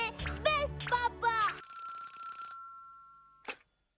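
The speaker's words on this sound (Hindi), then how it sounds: "आपके लिए फोन आया है" A telephone rings in a Hindi-dubbed cartoon house, a steady electronic trill sounding alone for about two seconds and fading, right after children's chatter ends, then a short clunk as the receiver is picked up.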